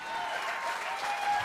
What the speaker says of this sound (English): Just heard the applause.